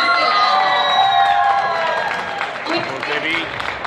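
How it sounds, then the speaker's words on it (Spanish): A convention crowd at a comic event bursts into applause with cheers, whoops and shouted voices over the clapping, loud and close, rising and falling across the moment. "Un aplauso para el público."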